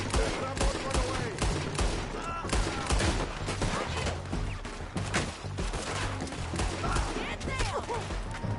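Sustained gunfire in Red Dead Redemption II, with repeated shots cracking in quick irregular succession over a busy, loud battle mix, voices calling out amid the shooting.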